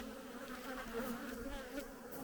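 Honeybees swarm around an opened hive being reassembled, a dense, continuous buzzing hum close by, steady and alone with no voices.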